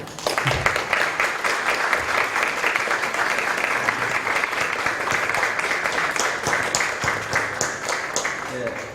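Steady audience applause for Professor Gilberto Velho at the close of a lecture on cultural policy in Brazil, a continuous dense patter of many hands held at even loudness throughout.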